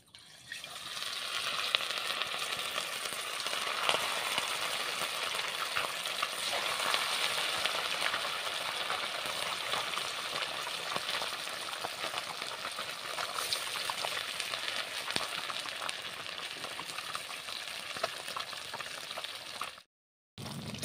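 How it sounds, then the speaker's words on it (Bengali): Rohu fish pieces fry in hot oil with a continuous loud sizzle and crackle that hisses steadily, broken by a brief silent gap near the end. "এবার আমি একটা একটা করে মাছগুলো ভেজে নেব।"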